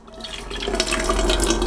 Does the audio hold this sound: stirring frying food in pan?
no